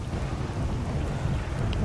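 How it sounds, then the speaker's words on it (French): Thunderstorm in the video game S.T.A.L.K.E.R. Misery, a steady low rumble of thunder with rain and wind, loud and continuous throughout. "Mon dieu, ces éclairs quoi."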